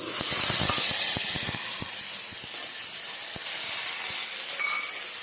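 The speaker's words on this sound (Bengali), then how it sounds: "ডাল সম্বারে আমি শুকনো লঙ্কা দিচ্ছি" Dry red chillies dropping into hot oil for a dal tempering, with a burst of crackling pops at the start that settles into a steady, close hissing sizzle with no voices.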